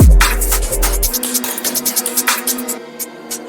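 UK drill drum fill from the Redemption Drumfill kit, opening with a deep booming 808 then rapid crisp hi-hat and snare rolls in a fast stuttering pattern, loud and close with no talking.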